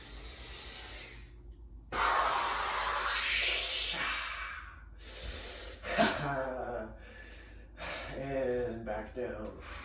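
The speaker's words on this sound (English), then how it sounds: "Deep breaths." Deep, steady breathing during an exercise and stretching routine: loud drawn-out inhales and exhales, several breaths in a row, with a voice speaking between them.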